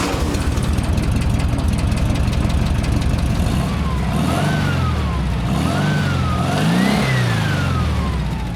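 A 1958 Porsche 356A Super Cabriolet engine runs steadily close by, then revs up and falls back three times in rising and falling sweeps, loud and alone with no talk.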